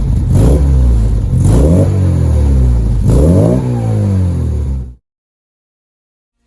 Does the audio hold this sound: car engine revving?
yes